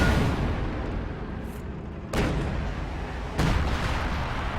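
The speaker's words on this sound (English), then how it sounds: "Even more rare to see the bunker busting barrage." Artillery barrage from the bunker-busting ability in the Company of Heroes 2 strategy game: a low rumbling bed of battle noise with two sharp impacts about a second apart, moderately loud.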